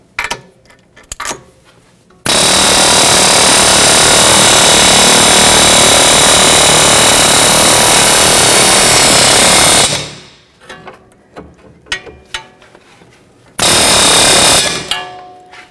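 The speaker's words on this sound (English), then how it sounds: "at the same time use my air chisel" An air chisel hammers loudly and continuously against a front control arm on a 2011-2018 Volvo S60 during strut replacement, one long burst of about eight seconds, then a shorter burst after scattered knocks.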